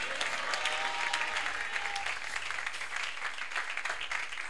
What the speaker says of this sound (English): Can we clap and shout amen?